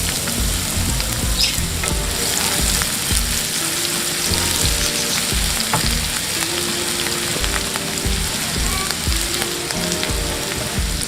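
Finely chopped celery stems and garlic sizzle and fry steadily in a pan while a pizza sauce is cooked, a loud continuous crackle with soft stirring and no talking.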